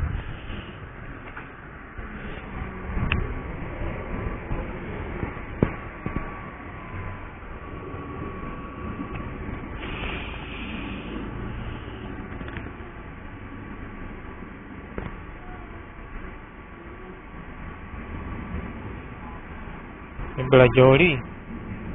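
A train at a station in Crawley sets up a low, steady rumble that carries under brief talk, with a sharper burst of sound near the end.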